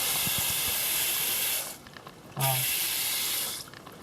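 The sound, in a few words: water running from a loose garage faucet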